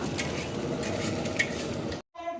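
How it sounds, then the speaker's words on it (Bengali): Onions fry in a pan with a steady, close hiss and crackle that runs continuously, then cuts off abruptly near the end. "পেঁয়াজ ভাজা চলছে"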